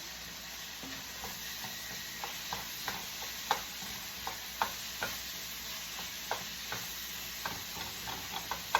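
Italian sausage cooks in a pot as the base for vegetable soup, giving a faint, steady sizzle with soft, regular clicks and taps of stirring scattered throughout, heard close and alone without talk.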